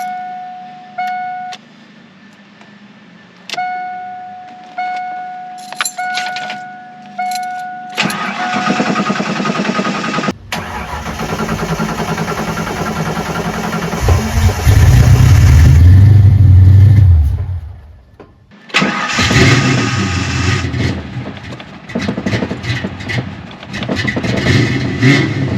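A 1988 Ford Mustang with a 306 V8 is started for the first time in six years, with several short cranking bursts, then the engine catches, revs hard and settles into a loud, close running idle before revving again.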